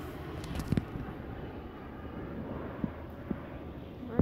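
A plane flies near an airport as a faint, steady broadband rumble with a few short clicks and knocks over it and no voices.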